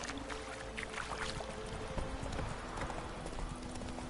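Horse hooves clip-clop in a steady rhythmic gait in The Witcher 3, the repeated clopping close and moderately loud over a faint ambient game background, with no talk.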